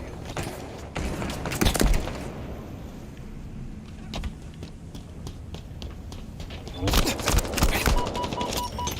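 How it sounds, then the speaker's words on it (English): Assault rifle gunfire in the video game Halo Infinite, loud rapid bursts of automatic fire with thumps, a quieter stretch of scattered shots between, then another heavy burst near the end. "It's assault rifles."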